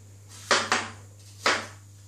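Three quick, sharp knocks of a kitchen knife on a board while dicing meatball ingredients at home, two close together and a third after a short pause, each one crisp and close.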